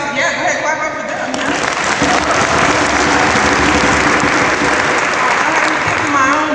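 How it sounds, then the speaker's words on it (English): Loud, dense audience applause for project supporters swells after the first second and holds steady, with crowd voices and cheers mixed into the clapping. "go ahead, clap up for them"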